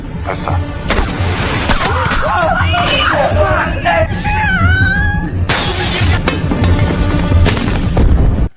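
A film hostage scene with special forces gunfire, a loud chaotic mix of shots, shattering and booms alongside yells and wailing screams from hostages, continuous and close throughout.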